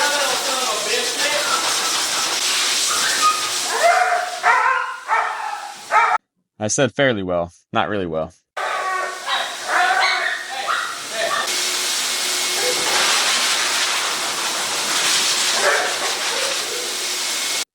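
A dog yips and whines in short bursts over the steady roar of a blow dryer, with a person talking throughout.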